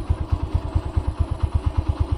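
A motorcycle engine thuds along at a steady pulsing rhythm while the bike makes its way over a rough, difficult path through green countryside. The engine is close, loud and alone, with no talk over it.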